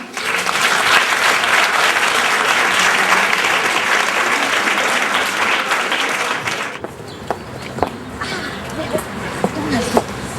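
Loud, sustained crowd applause for minister Catherine Vautrin at a public gathering, dense clapping lasting about seven seconds before dying down to scattered claps and murmurs.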